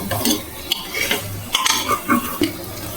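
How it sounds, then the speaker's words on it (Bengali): Meat masala being stirred in a cooking pan: close, uneven scraping and clinks of a utensil against metal over a light sizzle, with brief clatters scattered throughout. "মিট মশলা দিচ্ছি, আবার নেড়ে দিচ্ছি।"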